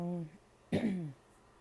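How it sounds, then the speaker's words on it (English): A short, harsh throat clear sits close to the mic between stretches of a speaking voice. "sorry for clearing my throat so much and clearing it into the microphone"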